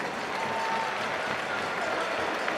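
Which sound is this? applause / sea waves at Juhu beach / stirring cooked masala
applause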